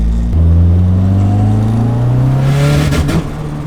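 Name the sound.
Mazda RX-7 FD engine accelerating and breaking up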